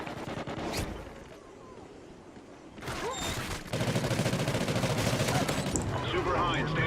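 Suppressed gunfire from a K7 silenced SMG in Call of Duty Ghosts, with extended magazines, cracks out in bursts of quick shots that grow denser and louder toward the end, amid game sound effects.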